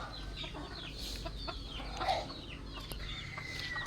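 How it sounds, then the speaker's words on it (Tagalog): Chickens and chicks cluck and peep on a small farm, several soft calls scattered over a few seconds at moderate distance, with light background noise and no speech. "Ang ating mga sisiw naman. Ayan. Ayan na sila guys."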